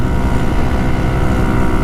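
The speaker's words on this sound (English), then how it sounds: "My exhaust is louder than it usually is." Exhaust of a GY6 150cc scooter held on by a single bolt roars loud and continuous at close range, a dense rumbling drone with no voices.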